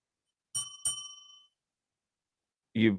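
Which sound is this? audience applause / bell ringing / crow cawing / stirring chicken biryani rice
bell ringing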